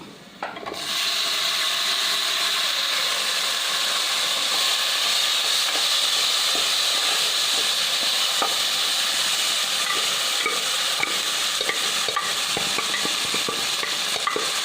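Cooked jackfruit seeds fry with turmeric and spices in a pan, a loud continuous sizzle with scattered clicks and scrapes of stirring throughout.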